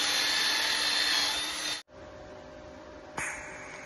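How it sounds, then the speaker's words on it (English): An arc welder fuses nuts onto rusted intake bolts on an abandoned 1968 Ford Mustang, a loud steady crackling hiss that cuts out abruptly, pauses briefly, then strikes up again close by. "So we're welding some nuts onto them, see if we can get them off."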